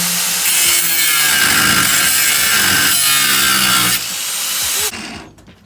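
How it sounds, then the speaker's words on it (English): A power tool grinds and cuts through thick, heavy metal on a race car. The harsh, loud, steady cutting roar runs for several seconds before tapering off, with no voices. "This portion is a lot thicker, a lot heavier than the rest of the metal, so it's taking a lot more to grind it away, or to cut it away."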